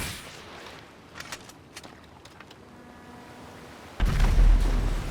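In GTA 5, the world's biggest nuclear bomb, the Tsar Bomba, detonates: a quiet stretch with scattered faint clicks gives way to a sudden loud, sustained roaring blast near the end.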